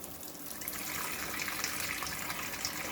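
Water runs steadily from a tap while hand-dyed Icelandic wool yarn, coloured blue with RIT dye, is rinsed, producing an even, moderately faint rushing hiss with no pauses.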